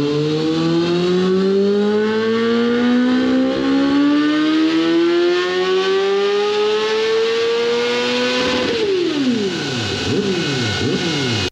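A Honda CBR 1000 RR-R motorcycle engine revs on a dyno, climbing steadily in pitch for about eight seconds to a loud peak, then cutting off and dropping into lower burbling and popping as it winds down.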